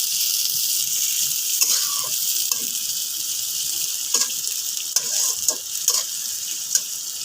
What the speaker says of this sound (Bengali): তেলের ভিতর পেঁয়াজ কুচি করে রাখা পেঁয়াজ দিয়ে দিলাম। দিয়ে নাড়তে থাকলাম।